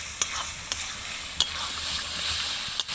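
Jackfruit curry with turmeric, salt and peas stir-fried in a pan, giving a steady close sizzle with a few sharp clicks of the spoon against the pan.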